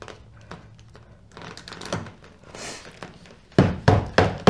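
Tabs of a convertible top are tapped into place on a 1987 VW MK1 Cabriolet, giving a series of irregular knocks and thunks that grow louder and more frequent toward the end.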